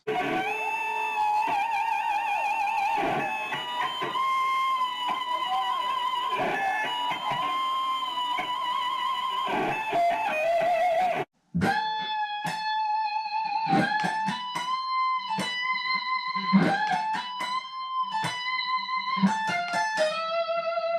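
Fast, bright electric guitar lead lines with bent notes and wavering vibrato, loud and energetic, with a brief cutout midway before sharper, choppier phrases.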